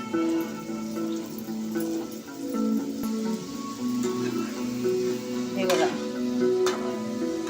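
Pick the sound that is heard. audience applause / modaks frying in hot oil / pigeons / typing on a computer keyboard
modaks frying in hot oil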